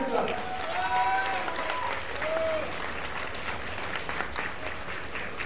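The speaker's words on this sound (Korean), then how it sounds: "큰 박수 부탁드리겠습니다" Crowd applause at a professional boxing match in Busan, a steady wash of clapping throughout, with a few whistle-like tones over it near the start and faint voices mixed in.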